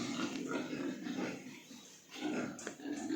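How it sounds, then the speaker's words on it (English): A pig on a farm grunts and snuffles up close in a run of low, rough sounds, dipping briefly before resuming. "And the home alone pig over there."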